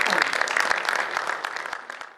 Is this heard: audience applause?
yes